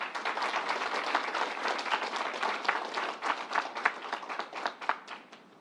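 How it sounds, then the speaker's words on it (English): Audience applause breaks out at a state fairgrounds announcement, a dense, steady wash of many hands clapping at full volume for several seconds with no voices over it. "Let's give them a round of applause."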